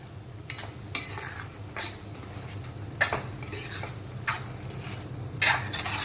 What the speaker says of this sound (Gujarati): હવે આપણે એમાં બ્લાન્ચ કરેલી પાલક નાખી દઈએ અને બરાબર મિક્સ કરી દઈએ